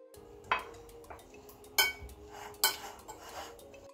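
A spoon scrapes and stirs grated cheese and other ingredients for a potato and chicken gratin in a bowl, with a few sharp clinks against the side at irregular moments, close and fairly quiet.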